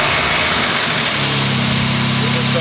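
BMW G8X M3/M4 idling with front-mount intake cones fitted, giving a loud, steady engine drone; a lower harmonic hum settles in partway through and holds to the end, with no pauses.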